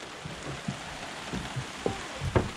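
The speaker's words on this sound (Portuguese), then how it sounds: "Começou a chover bastante." Heavy rain falling outside a house, a steady loud hiss of downpour with scattered thuds and drips standing out from it, no voices over it.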